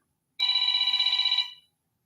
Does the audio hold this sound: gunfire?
no